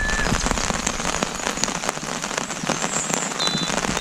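Steady, dense rain pattering onto canal water at a tench fishing spot, a continuous close hiss of countless drops with occasional louder splats, no voices.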